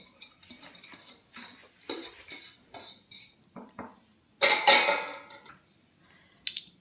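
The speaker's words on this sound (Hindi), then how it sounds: "तो फिर मैं प्याज मिक्स कर देती हूँ।" Chopped onions mixed in a bowl for aloo paratha filling, with a spoon clinking and scraping against the bowl in quick, uneven strokes, then a louder burst of clatter and a final tap.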